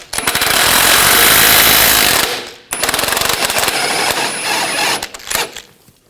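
An impact wrench rattles loose a 21mm bolt on the rear forward control arm of a 2000-2006 BMW X5, a loud continuous hammering burst, a brief pause, then a second run that sputters out.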